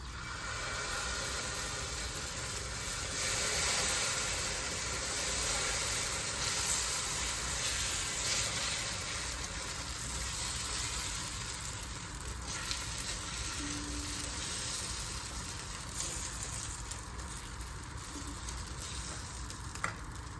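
Spicy whole wheat dosa batter sizzles steadily on a hot pan, a continuous, even frying hiss that lasts throughout with no speech.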